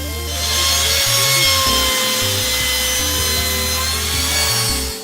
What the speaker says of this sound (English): we're gonna take my palm router with this 45 angle on it, and we're just gonna bevel all these edges